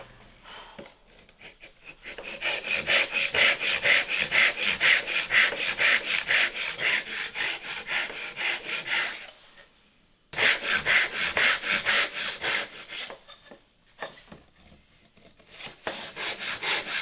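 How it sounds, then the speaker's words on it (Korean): A hand saw cuts wood for a cross half lap joint: rapid, rhythmic back-and-forth rasping strokes, close and fairly loud, pausing briefly twice before sawing resumes. "톱질을 할 때는 재단선을 확인하면서 톱질해야 합니다."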